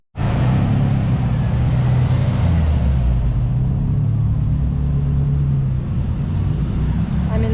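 A motorcycle riding on a road through the Santiago Hills toward Santiago Canyon and Cook's Corner, heard as a steady, loud engine drone and road rumble that carries on unbroken throughout.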